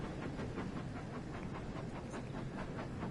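A train in Train Sim World 5 braking, with a steady dense rumble and rhythmic clickety-clack of wheels over the rails, loud and continuous throughout with no voices.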